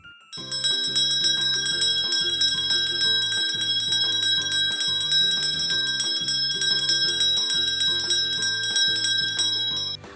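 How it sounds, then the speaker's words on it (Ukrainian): A small bell chimes a bright, continuous melody, its ringing tones overlapping steadily for about ten seconds, with no voices. "грати на мелодійному дзвонику"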